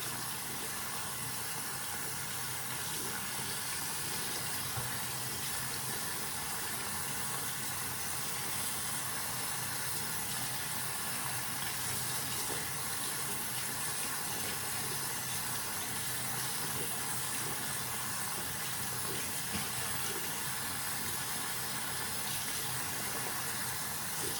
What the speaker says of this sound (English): Just gonna rinse out all of her hair.